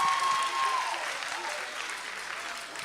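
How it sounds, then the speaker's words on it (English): Audience applause for performing artists at a university event, a soft, steady patter of clapping at moderate distance that gradually thins toward the end. "another round of applause for these fantastic artists"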